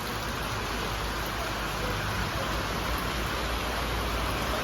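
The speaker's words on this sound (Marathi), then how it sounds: "पाऊस फुल चालू आहे" Heavy rain falling steadily during a two-day downpour in Tuljapur, a dense, even hiss that runs unbroken throughout with no clear breaks or voices.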